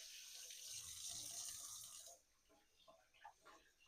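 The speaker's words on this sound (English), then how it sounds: "Now I'm gonna add water." Water pours steadily from a tap into a pot of turkey necks with vinegar, a close rushing stream that stops after about two seconds and leaves a few soft drips and clinks.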